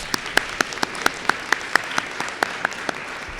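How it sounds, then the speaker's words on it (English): Steady applause from a crowd at an eighth grade promotion ceremony, with sharp individual claps standing out in a quick, uneven rhythm. "Let's give them one more round of applause."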